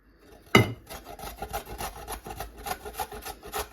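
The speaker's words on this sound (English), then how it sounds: "We're grating the ginger." Fresh ginger is grated by hand for a salad, giving steady, close rasping strokes that repeat quickly after an initial bump, soft and fibrous with no talking.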